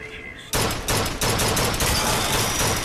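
Gunfire in Bioshock 2, a sudden loud burst that erupts after a quiet moment and keeps crackling densely for a couple of seconds, close and harsh.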